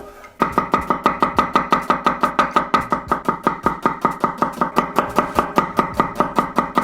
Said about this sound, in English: first of all, we're gonna thinly slice the onions.